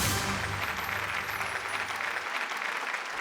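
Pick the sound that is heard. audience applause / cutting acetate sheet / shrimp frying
audience applause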